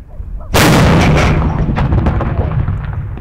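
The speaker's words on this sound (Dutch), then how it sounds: "Daar zit dit grote kanon." A carbide cannon on a Frisian farm fires one sharp, very loud bang, and a long rumbling echo trails off afterward.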